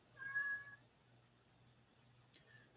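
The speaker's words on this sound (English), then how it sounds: "I'm sure y'all can hear my cat trying to get in here." A house cat meows at a closed door, trying to get into the room: one fairly clear drawn-out meow followed by a brief sharp knock or thump, set against a quiet low hum.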